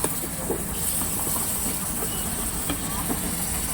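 Food frying in a pan on a stove over a high flame turned down toward medium, giving a steady, continuous sizzle and hiss with faint crackles throughout.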